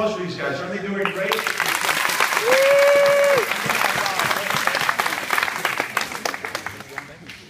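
Dense, loud audience applause fills a hypnosis show, swelling steadily and holding strong before thinning into scattered claps, with a brief rising tone and a voice passing over the crowd noise.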